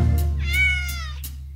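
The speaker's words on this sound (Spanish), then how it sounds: "Cuando regresó, alimentaba a su gato." A cat gives a single drawn-out meow in a children's nursery rhyme, close and clear, rising then falling over about a second against a soft musical backing.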